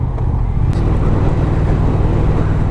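A Triumph Thruxton R motorcycle engine in road mode runs with a deep, steady low rumble close by, with wind noise over it and no clear rise in pitch.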